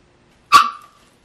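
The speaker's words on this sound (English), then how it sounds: "Why are you barking at me?" A single sharp bark from a Morkie puppy, close and fairly loud, with a short tonal tail fading away.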